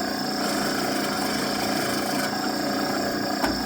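A power drill with sharp bits boring through material, a steady loud whirring grind running the whole time without pause, close up and alone.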